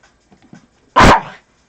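A single loud, close bark from Marley the dog rings out after a few faint scuffles and small sounds in an otherwise quiet room.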